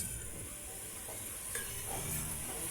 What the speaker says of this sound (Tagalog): Igisa natin yung ating chicken.